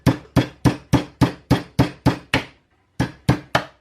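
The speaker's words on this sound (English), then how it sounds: "Let's just use a hammer." A hammer strikes an e-bike battery pack, a 72V pack built from 21700 cells, in a steady run of about nine sharp, ringing blows. A short pause follows, then three more hits, all close and loud.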